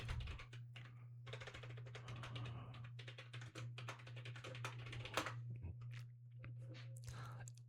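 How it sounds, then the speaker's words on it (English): Someone types a rank name on a computer keyboard: quiet, quick key clicks in short bursts, fairly close, over a faint low electrical hum. "type in the rank"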